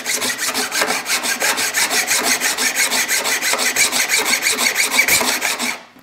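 A steel card scraper being sharpened with a file, fast even rasping strokes in a steady rhythm, loud and close for several seconds before stopping abruptly, with no voices.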